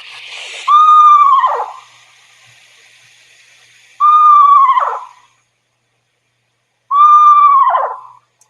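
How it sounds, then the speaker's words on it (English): Eastern screech owl in a summer backyard giving three clear, loud whinnying calls, each a descending, quavering screech with a rough tail, spaced a few seconds apart with silence between. "So this is the sound of the screech owl."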